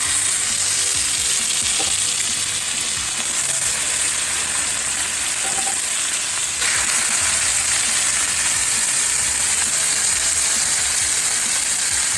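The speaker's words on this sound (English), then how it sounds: "add some oil to a hot cast iron pan, and let's start putting the steaks on" Ribeye steaks searing in oil in a hot cast iron pan, a loud, continuous broadband sizzle close by that holds steady with a brief shift midway, no voices.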